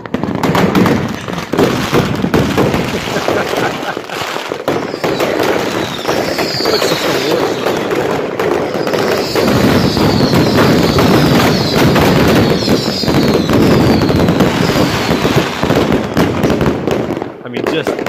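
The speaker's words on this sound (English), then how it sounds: "This is called Iceland New Year's Eve fireworks." Iceland New Year's Eve fireworks crackle and pop densely and loudly for the whole stretch, with rapid firecracker bursts and muffled booms and faint voices mixed in.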